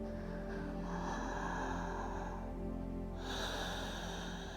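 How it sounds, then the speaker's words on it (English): Ujjayi yoga breathing, slow audible ocean-like breaths in and out through the throat with a soft rushing hiss, close and steady over a faint constant background hum. "Come back to that Ujjayi breath. Finishing the exhales."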